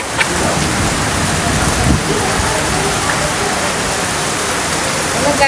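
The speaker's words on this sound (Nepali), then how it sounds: "आज त्यो असिना पानी झरेर अलिक ठुलो बोल्नु असिना पानी झरेर कस्तो राम्रो मौसम भइरहेछ" Hail and rain pour down in a dense, loud, continuous hiss and patter close by, with scattered sharper impacts throughout.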